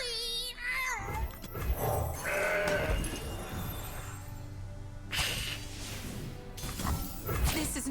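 A mountain goat card in Legends of Runeterra gives a wavering bleat at the start, followed by game sound effects with crashes and shattering and a brief burst of voice.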